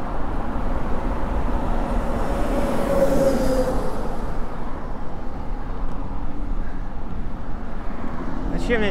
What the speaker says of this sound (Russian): Эта электричка прекрасна.